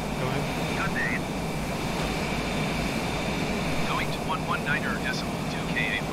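Cessna Citation Longitude business jet at high throttle in Microsoft Flight Simulator, a steady loud engine roar held throughout, with someone talking and brief radio-style chirps over it.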